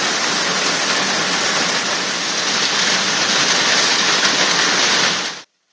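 Heavy rain pours down during a storm in Afyonkarahisar, a loud, dense, unbroken hiss of falling water that holds steady for several seconds, then cuts off abruptly.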